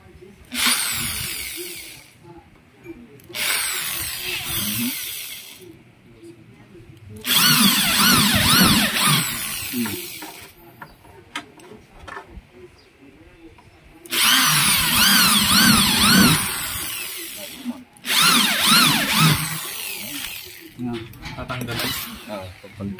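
A power drill bores into a part from a Honda Wave 125i motorcycle in four loud whining bursts of several seconds each, separated by short pauses, with speech heard between runs.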